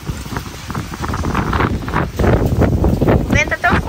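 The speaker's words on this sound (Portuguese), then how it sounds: "O vento tá tão forte que tá levando um pano" Strong gusting wind from a sudden storm in a rural countryside setting, buffeting the microphone in loud surges, with a person talking over it.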